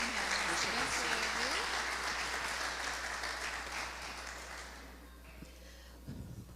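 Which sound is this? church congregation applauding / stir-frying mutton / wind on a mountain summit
church congregation applauding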